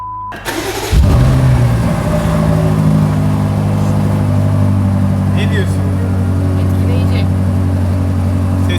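A BMW M5 Competition 35 Jahre Edition engine cranks and starts with a burst, then settles into a loud, steady rumbling idle with slight rises in revs.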